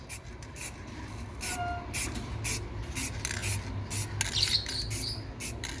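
Spray paint hisses in repeated short bursts onto a discarded, holed guitar being refinished, each spurt regular and fairly close against a low background hum.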